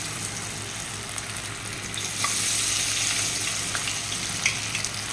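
Food sizzles and fries in hot oil in a pan on a gas flame turned low, a steady close crackle with brief bursts of louder spitting partway through.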